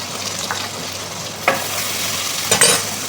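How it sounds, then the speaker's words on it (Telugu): Capsicum frying in a pan while cooking spaghetti, a steady sizzle with a few scraping stirs of the spatula breaking through, close and alone without talk. "ఇవైతే కొంచెం ఫ్రై అయిపోయినాయి తర్వాత అయితే క్యాప్సికమ్ క్యాప్సికమ్ అయితే వేసినాను"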